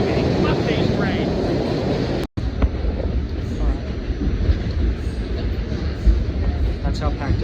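Subway trains rumble and screech continuously through a crowded New York City subway station, a loud, dense roar with metallic squeals rising and falling, broken by a single sharp dropout, while a voice talks faintly beneath the din.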